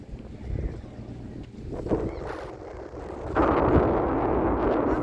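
Wind gusts buffet a microphone outdoors on a hot day of over 30 degrees, a rumbling low roar that swells and then turns into a louder, steadier rush in the final seconds.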